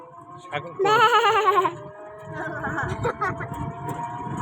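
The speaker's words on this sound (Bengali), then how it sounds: "ছাগল ছাগল" A goat bleats loudly once in a long, wavering cry, followed by a quieter background of voices and farmyard noise.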